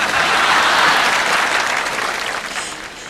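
A concert audience applauds after a song, with dense, loud, steady clapping from a large crowd that slowly fades toward the end.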